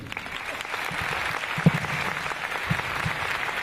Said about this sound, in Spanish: Y pido un fuerte aplauso para darle la bienvenida a Paula Carlino